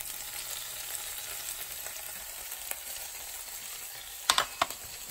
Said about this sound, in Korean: 오징어를 넣고 볶습니다.